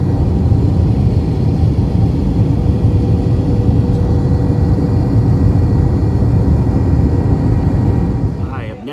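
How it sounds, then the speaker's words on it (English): Loud, steady roar filling the interior of Miami Airport, a dense unbroken wash of engine-like rumble and hum that holds level before easing slightly at the very end. "I have now made it to Miami Airport"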